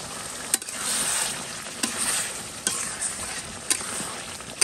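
Meat sizzles steadily in a hot pan while a utensil scrapes and stirs it at regular intervals, each stroke a short sharp scrape above the continuous frying hiss.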